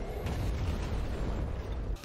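A huge explosion rips apart an entire police station, a loud, dense rumbling roar of blast and debris sustained for about two seconds before cutting off.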